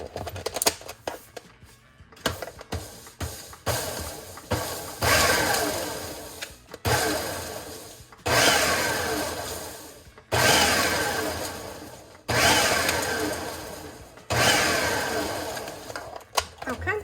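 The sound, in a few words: food processor pulsing mozzarella cheese for keto pizza dough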